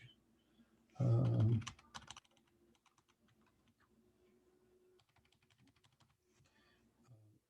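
Keys clacking on a computer keyboard in a quiet room: a loud burst of rapid typing at first, then lighter scattered taps and short runs of keystrokes continuing, close up.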